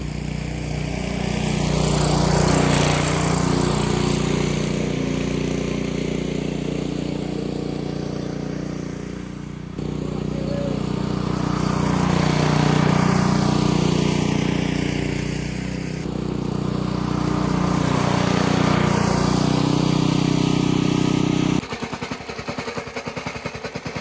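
A small petrol engine runs on a mobility scooter, a loud steady drone with a rough buzzing tone that swells and eases in three long surges, then cuts off abruptly near the end, leaving a brief clattering tail.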